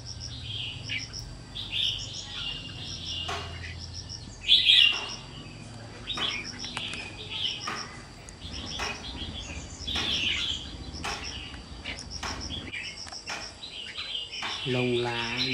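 A young songbird about two months old, kept in a cage with its plumage still ragged and unfinished, chirps in repeated bright bursts, with someone talking alongside.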